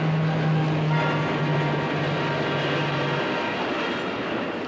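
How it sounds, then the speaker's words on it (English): Train rolling along the tracks in a 1960s Batman television episode, a steady loud rumble with a sustained low horn-like tone for the first three seconds, fading slightly toward the end. "Wait a minute, there's 2 tracks there and the train is on this one."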